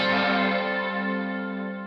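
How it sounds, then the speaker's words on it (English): A sustained, heavily effected guitar tone through a Strymon Cloudburst reverb pedal rings out with a short slapback repeat and spacious reverb wash, decaying slowly over about two seconds. "I've set it to be right in the spot where it starts to be a slapback echo"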